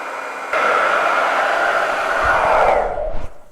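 A hair dryer runs steadily and loudly close by, blowing over chalk paste on a burlap board, starting with a jump in level, holding a constant airy roar, then fading as it is switched off.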